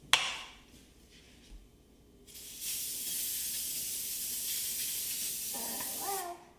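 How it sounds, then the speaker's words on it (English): A steady hiss of baking spray greasing a cake pan runs for about four seconds after a few soft clicks and handling noises, close by. "now I'm going to grease my pan. I have baking spray"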